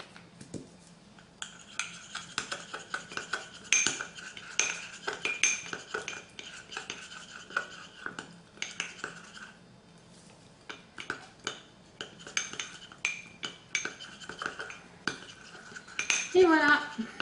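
Small spoon clinking and scraping in a dish while mixing colour into a golden lip gloss mixture, a series of quick delicate taps and scrapes close up.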